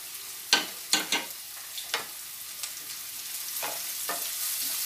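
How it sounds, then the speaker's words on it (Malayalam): Onions and garlic sauté in a pan of oil for a pepper dal, a steady soft sizzle broken by several sharp scraping stirs of a spoon near the start, then settling into a quieter fry. "ഈ സവാള നന്നായി വഴറ്റി എടുക്കുമ്പോൾ"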